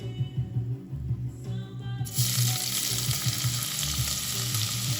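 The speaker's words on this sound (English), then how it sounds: "time to saute my onions in my bacon fat" Onions sautéing in beef bacon fat on a stove for lentil soup with smoked sausage and apples: a soft sizzle with stirring that swells into a loud, steady frying hiss as the onions hit the pan, no voices.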